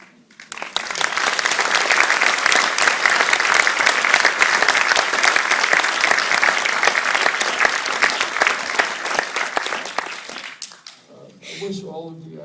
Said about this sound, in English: Here, finally, applause for his work.